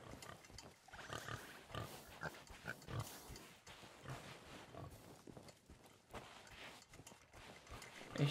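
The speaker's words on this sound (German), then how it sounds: "Echt viele Schweine hier." Pigs in the pirate video game Sea of Thieves grunt and snort repeatedly at moderate distance, with several overlapping animals in a steady irregular stream of calls.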